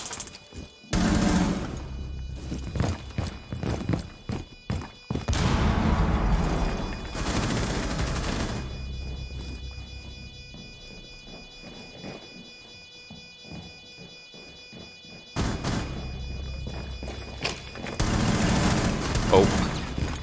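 Video game gunfire in rapid bursts, loud sharp volleys and clusters of shots separated by quieter gaps, with voices talking over the action.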